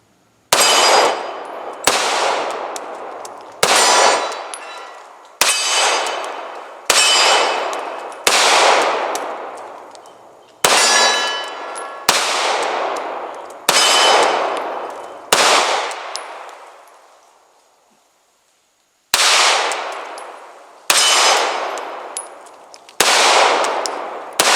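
A CZ 2075 Rami pistol fires a series of loud single shots, each a sharp crack with a decaying ring, spaced about a second or two apart with a brief pause midway, loaded with a 16-round magazine.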